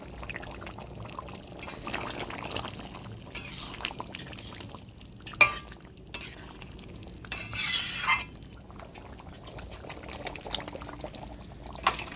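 Mutton curry gravy bubbles gently in a wok over low heat, a faint steady simmer. Occasional clinks of a utensil against the pan and a brief louder stir break through partway along.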